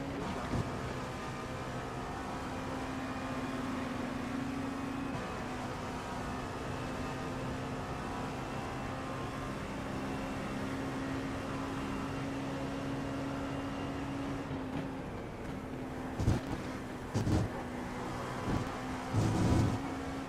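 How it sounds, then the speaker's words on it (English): Hypercar engines at the Watkins Glen 6 Hour event in the racing game iRacing, a steady droning engine note that holds even throughout, with a few brief knocks near the end. "There's a hypercar coming around, 2 hypercars"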